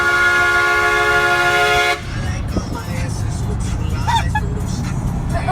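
A loud, sustained horn blares steadily for about two seconds and then cuts off, leaving a noisy outdoor scene with voices talking over traffic-like background noise.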